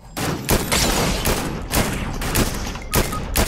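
Rapid gunfire from a Fortnite Battle Royale squads match, with repeated bursts of shots in quick succession at steady loudness and no talk over them.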